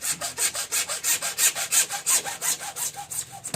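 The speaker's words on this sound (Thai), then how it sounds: "ก็ใช้เลื่อยตัดปกตินะครับ" Steady back-and-forth hand sawing through plastic water pipe, about twenty quick rhythmic strokes with a raspy, hissing bite, close up and alone.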